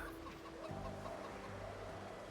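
Chickens cluck in the Project Zomboid video game, a few soft, fairly faint clucks rising over a steady low hum of game ambience.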